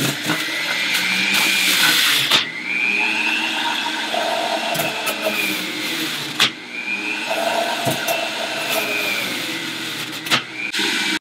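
A Breville 800JEXL Juice Fountain Elite juicer runs on its high setting while juicing carrots, giving a loud, steady motor whine with grinding bursts as each carrot feeds through and brief clunks in between.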